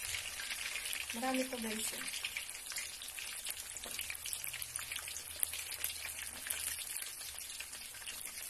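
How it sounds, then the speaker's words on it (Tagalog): Sweet potato (camote) chunks deep-frying submerged in plenty of oil, a steady close crackling sizzle with popping bubbles throughout, while someone briefly talks over it. "Kamote sa mantika. Para maluluto."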